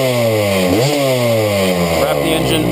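GasGas EC300 two-stroke dirt bike engine revved hard with the clutch pulled in, loud and close, the pitch sweeping up and dropping back in two quick blips over a steady rasping idle.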